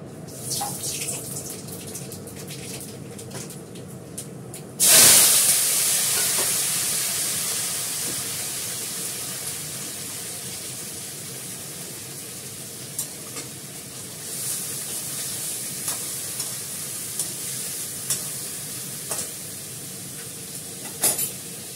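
Nigella seeds dropped into hot oil for a Bengali tempering burst into a loud, sudden sizzle that slowly fades into a steady crackling fry, with small pops scattered throughout.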